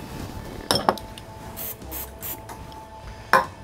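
Cooking oil sprayed onto a Blackstone griddle in a few short hissing bursts, quiet and close, between light clinks of utensils, with no one talking.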